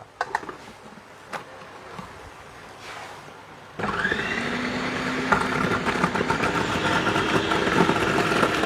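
An electric vegetable chopper starts up partway through, its motor whirring steadily and close while chopping potatoes, following a quieter stretch of faint knocks and handling noises.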